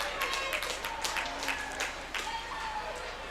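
Youth hockey fans in an arena cheer and applaud after a penalty kill, a sustained crowd roar with scattered clapping and a commentator talking over it.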